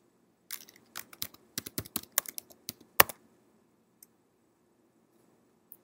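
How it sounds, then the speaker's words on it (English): Quiet, close typing on a computer keyboard: a quick, irregular run of crisp keystrokes that ends with one sharper key press, then a couple of isolated taps. "Begin typing the name of your new folder."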